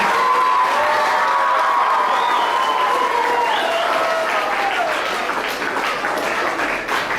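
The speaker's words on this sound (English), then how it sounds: "Can we have a big round of applause for him?" Sustained applause with scattered cheers from a crowd of children and adults at an inter-primary school soccer celebration, honoring the team goalkeeper; loud and steady throughout.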